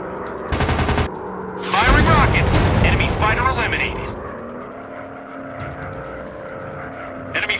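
Gunfire in a WW2 aerial dogfight video game: a short burst of rapid shots, then a loud roaring volley with engine noise and whooshes that fades to a droning hum, with a few faint clicks at the end.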